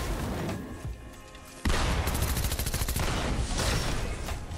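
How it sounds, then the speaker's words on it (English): Video game gunfire from enemies on a hill, a sudden burst of rapid shots that breaks into a sustained, loud, crackling volley of automatic fire. "Oh, yep, fuck. They're shooting at us."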